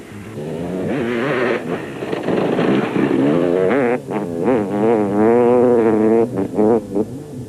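Enduro racing motorcycles, Honda and KTM machines at the Caledon 400, rev and roar loudly, with engine pitch sweeping up and down as bikes accelerate past, partly under a commentator's voice.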